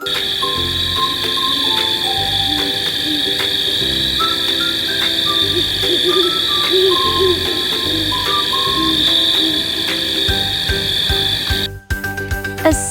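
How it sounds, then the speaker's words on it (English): A cartoon owl hoots deep in a dell, set against a busy backdrop of croaking frogs and chirping crickets, with a steady high insect drone and a brief cut near the end. "An owl hooted it deep in the dell."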